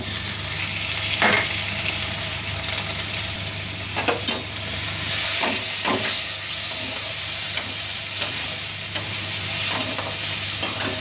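Chopped tomato fries in hot oil with ginger-garlic paste and onions, a continuous loud sizzle, while a spoon stirs and scrapes against the pan every few seconds.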